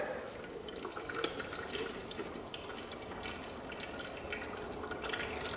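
Water drains steadily from an old Ford 5610 tractor, a continuous close splashing and dripping stream with no voices.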